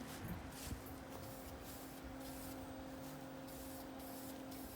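Light coats of spray paint go onto an RPF-1 wheel, a soft, faint, steady aerosol hiss with a faint hum in the background.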